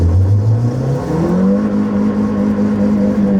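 A Chinese car's engine revs while the vehicle stands still, a steady mid-pitched drone that climbs once in pitch and then holds loud and continuous.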